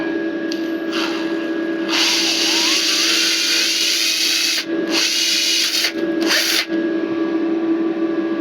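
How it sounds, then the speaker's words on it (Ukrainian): A power drill bores a hole for a bolt during repair of a Fiat Fiorino windshield wiper linkage, heard as a loud, sustained whine that stops briefly and then restarts in short bursts, close by. "просверлим дырочку под болт оцей"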